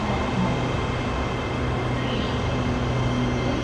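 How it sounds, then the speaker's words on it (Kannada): A Bangkok metro Red Line train arrives at the platform, giving a steady, moderately loud rumble with a hum of machinery and no clear talk. "ಸೊ ಫೈನಲಿ ನಮಗೆ ನಮ್ಮ ರೆಡ್ ಲೈನ್ ಟ್ರೈನ್ ಬಂದಿದೆ"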